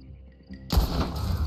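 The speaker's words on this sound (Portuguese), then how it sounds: "Dou um tiro daqui." A rifle fires once in the video game Red Dead Online, a sudden loud blast followed by a rumbling echo that lingers to the end, preceded by quiet tonal game sounds.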